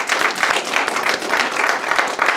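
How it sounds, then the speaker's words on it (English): Graduates at a pinning ceremony applaud themselves, a steady, fairly loud round of many hands clapping throughout, with little talk beneath it. "you can give yourself a round of applause for that"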